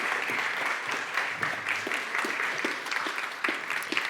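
Audience at an awards ceremony for women in science fellowships and rising talent applauding the speakers, continuous mid-distance clapping from a sizeable hall, even and sustained with occasional louder individual claps.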